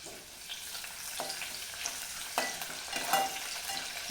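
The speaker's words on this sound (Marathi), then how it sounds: "कांदा परतून घेऊ।" Chopped onion sizzles in hot oil tempering for a Konkani-style prawn curry, a steady crackling fry with sharper scrapes and clicks as it is stirred, close and fairly quiet, no voices.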